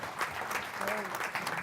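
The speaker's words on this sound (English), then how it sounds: "So you can applaud for that" An audience applauds at a talk on combating eviction and right to counsel in housing, a brief burst of clapping with a voice speaking over it.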